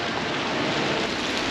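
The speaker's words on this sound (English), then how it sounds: "It is raining heavy outside. I can hear it from the roof." Heavy rain drums steadily on a roof overhead, a dense unbroken hiss at moderate loudness with no voices.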